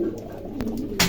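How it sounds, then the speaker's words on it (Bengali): A pigeon gives a short, close coo at a pigeon market where pairs, including long-face almond birds, are kept, a brief soft call ending in a louder burst. "দুই জোড়া কবুতর আছে"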